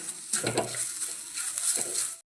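Carrots frying in ghee in a pan for carrot laddu, a steady close sizzle with stirring scrapes and occasional clinks of a utensil against the pan, no voices.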